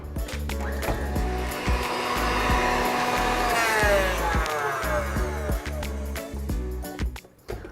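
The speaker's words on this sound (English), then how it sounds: "We're gonna cream the butter up so it is nice and smooth before we add the sugar." An electric mixer creams butter in a bowl for a vanilla cake, a loud whirring motor with sweeping pitch shifts and rattling beater knocks against the bowl, running continuously and close.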